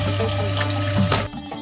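Tap water runs steadily into a sink while raw chicken is washed, a close continuous splashing flow that cuts off near the end, leaving a quieter tail.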